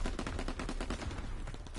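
Dense automatic gunfire and rapid shots from a World War II Call of Duty game, loud and continuous with no pauses.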